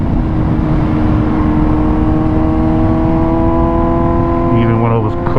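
A Kawasaki Z900 motorcycle on Michelin Road 6 tyres rides at moderate pace, its engine a loud, steady droning hum with heavy wind rush throughout and a slight rise in pitch toward the end.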